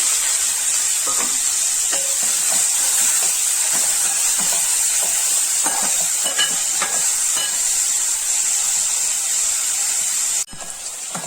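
Finely sliced onion and green chillies fry in a pan with a steady, close sizzle and hiss, broken by occasional stirring scrapes, before the sizzle drops briefly near the end.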